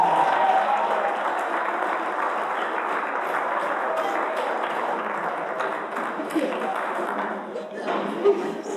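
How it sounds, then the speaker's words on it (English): Wedding reception guests give a long round of applause for the best man, a dense steady clapping that carries on evenly and tapers slightly near the end, with a few sharper claps. "Please give Charles a huge round of applause."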